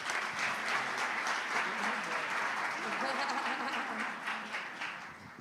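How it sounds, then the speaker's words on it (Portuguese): A church congregation at a Sunday celebration service bursts into sustained applause, a dense, continuous clatter of many hands that stays loud throughout and thins a little in the final second, with faint voices mixed into the crowd. "Vamos aplaudir Jesus?"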